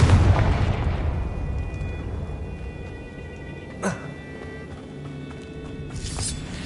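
A Confringo spell detonates in the Hogwarts video game as a sharp, fairly faint burst partway through. A softer blast follows later over a steady rumbling game backdrop.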